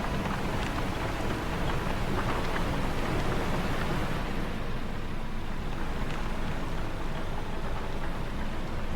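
Steady rain falls in Stasis: Bone Totem, a dense, even hiss with faint low rumbles like distant thunder, continuous and unbroken throughout with no voices.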